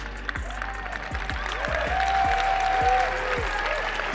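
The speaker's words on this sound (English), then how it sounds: "how not loud that clap is" Audience clapping at a talk, a moderate, fairly subdued patter of many hands that swells slightly midway, with tonal whooping sounds and sliding noises layered over it.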